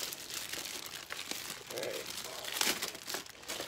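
Thin plastic bag crinkling and rustling while a guitar foot switch is unboxed, close and fairly quiet, with a few sharper crackles over a steady rustle.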